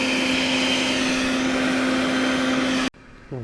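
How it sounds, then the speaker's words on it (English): A vacuum running outside during a yellowjacket nest removal gives a loud, steady droning whine that cuts off abruptly near the end, leaving quieter background. "You can hear the vacuum going outside."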